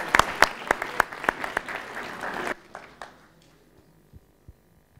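Audience applause at a lightning talk event, dense clapping for about two and a half seconds that then thins to a few scattered claps and fades into near quiet.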